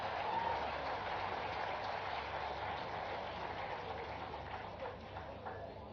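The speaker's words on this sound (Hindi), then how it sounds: "एक बार ताली बजा के उनका स्वागत कीजिए।" An audience at an MSME summit in Bhopal applauds, a dense, steady patter of many hands clapping at moderate distance that slowly fades toward the end.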